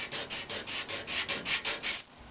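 Sandpaper rubs against a spalted oak vase spinning on a lathe, giving a rapid series of about a dozen rhythmic hissing sweeps, close and steady, fading slightly at the end with no talking.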